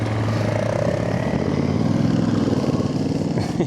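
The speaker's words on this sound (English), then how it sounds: "They look like dirt bikes." Several dirt bikes passing nearby in a countryside village setting, a loud buzzing drone of small engines holding steady and shifting pitch as they go by.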